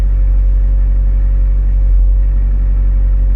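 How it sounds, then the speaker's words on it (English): A Mazda MX5 idles just over idle at about 1100 RPM, fitted with aftermarket I.L Motorsport engine mounts, giving a steady, close, droning low hum that holds unchanged throughout with no one speaking. "So that's it on idle, well, just over idle, 1100 RPM."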